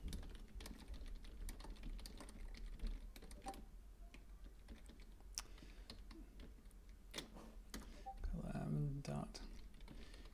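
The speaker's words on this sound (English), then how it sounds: "I'll type the link here in Discord" Computer keyboard typing in quick clustered bursts of clicks, faint and close, with a brief murmur of a voice near the end.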